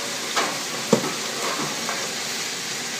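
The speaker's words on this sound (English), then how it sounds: "I'm kind of sauteing them" Chopped vegetables for Thanksgiving turkey stuffing sauteing in a pan over high heat, giving a steady soft sizzle with a few brief stirring clicks.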